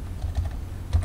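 A short burst of quick keystrokes clatters on a computer keyboard as an email address is entered, several close, soft taps in an uneven rhythm with no talking.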